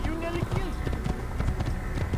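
Horse hooves galloping in the Assassin's Creed video game, a steady, rapid clip-clop running continuously beneath voices that talk throughout.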